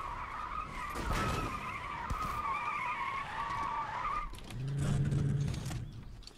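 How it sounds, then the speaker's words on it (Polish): Tires squeal from a car drifting in the Fortnite video game, a sustained, fairly loud screech lasting several seconds before fading into lower engine rumble, with no talk over it. "Cały czas dźwięk pisku opon."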